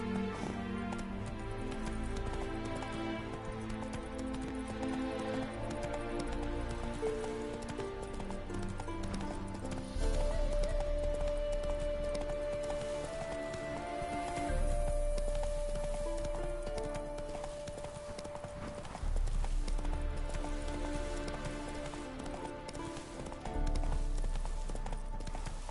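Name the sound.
horse Roach galloping, from video game Witcher 3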